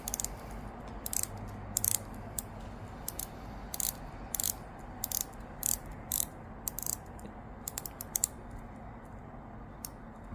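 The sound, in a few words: watch bezel ratchet clicks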